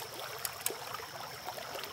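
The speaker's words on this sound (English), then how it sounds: "Hopefully y'all are just enjoying the sounds of the creek." A creek flows and trickles faintly in a soft, continuous rush beside gold prospecting with a sluice box, with small splashes now and then.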